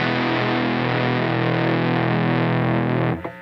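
Distorted electric guitar run through a Chase Bliss Preamp MKII pedal with the mids placed before the preamp, a loud sustained chord ringing steadily for about three seconds before cutting off abruptly into a brief decaying tail.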